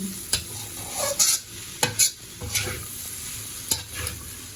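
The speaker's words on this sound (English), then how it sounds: "so just stir everything together" Mamak-style stir-fried mee goreng noodles are tossed in a hot pan, with a bright sizzle broken by several sharp scraping and clanking strokes of a spatula at irregular intervals.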